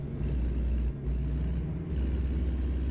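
A heavy truck engine drones steadily in American Truck Simulator, with a low rumble that dips briefly twice before carrying on.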